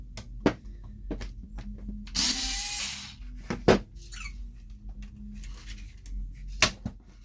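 Small screws being worked out of the rear shock mounts on a Traxxas Wide Maxx RC truck: sharp intermittent clicks and taps of a driver on plastic and metal, a brief rustle, close and quiet.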